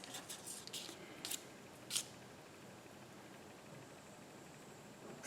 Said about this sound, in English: we'll trim off any excess